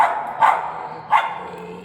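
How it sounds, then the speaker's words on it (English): A dog barks twice, two short sharp woofs about half a second apart, close and fairly loud against a quiet background. "She hears her brother barking."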